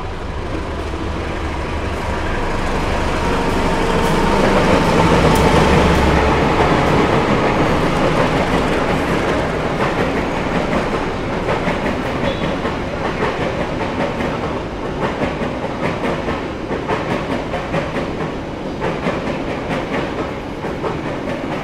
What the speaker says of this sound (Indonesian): Yang barusan lewat adalah kereta api Bangunkarta dari stasiun Jombang tujuan stasiun